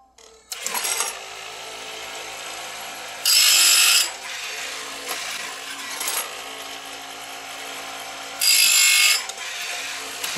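An automatic Oregon or Tecomec chain sharpener grinds a damaged chainsaw chain, a steady mechanical whir broken by repeated short, loud bursts of harsh grinding as each cutter is sharpened.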